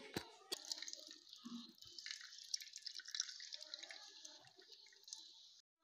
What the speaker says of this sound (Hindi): इस तरह इसका पानी निकाल लेंगे